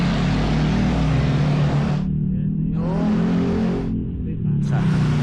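A Voge DSX motorcycle engine runs close and loud with a dense, steady rumble that cuts out abruptly twice, and a voice talks over it.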